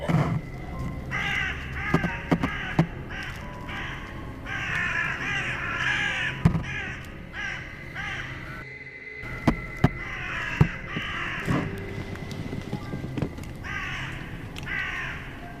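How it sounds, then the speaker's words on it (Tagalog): Crows caw repeatedly outside at night, a flock of harsh, overlapping calls coming in ragged bursts at moderate distance, with brief lulls and sharp clicks scattered between them. "nabulabog sa mga uwak na nagsisiingayan na sa labas eh, na tila ba may nakikita sa kadiliman."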